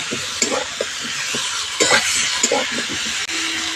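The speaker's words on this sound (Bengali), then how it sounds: "আদা দিয়ে সবজির সঙ্গে ভালো করে কষিয়ে নেবে।" Spinach and mixed vegetables with ginger paste sizzle in a pan as they are stirred, with a close hiss, scrapes and a few light clinks of utensil on metal, and no talking.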